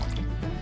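Port-style wine, a three-year-old, trickles and splashes briefly into a glass, a soft, close liquid pour lasting under a second.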